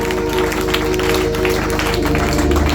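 A church congregation applauding and acclaiming the Lord, loud and continuous clapping mixed with crowd voices, over a steady musical backing.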